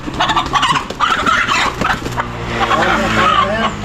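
Chickens cluck and squawk close by, overlapping with people talking.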